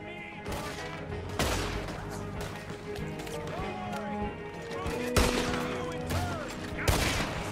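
Gunfire in a Red Dead Redemption 2 shootout during a bank heist ambush, with loud scattered shots and bursts cracking over a busy game soundscape, voices talking throughout.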